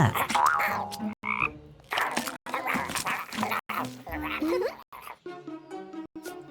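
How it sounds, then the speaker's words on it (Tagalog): A cartoon frog croaks in loud, rapid, comic bursts, broken by short silences, mixed with animated voice-like sounds and playful effects up close. "Ang mga kalansay ay natakot sa palaka."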